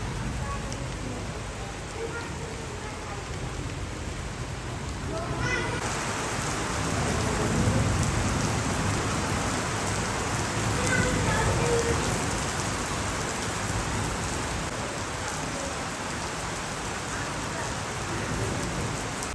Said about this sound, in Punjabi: ਮੌਸਮ ਬਹੁਤ ਖਰਾਬ ਹੈ ਫੁੱਲ ਜੋਰਾਂ ਤੇ ਮੀਂਹ ਆ ਗਿਆ